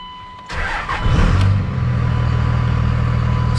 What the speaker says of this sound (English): I mean, the truck starts up pretty nice.